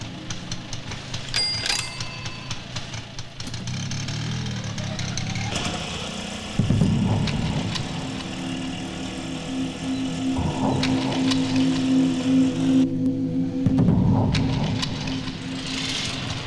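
An auto rickshaw engine in a Telugu film scene idles and runs with a steady mid-pitched rattle that swells and roughens in bursts, as if faltering, with no talk over it.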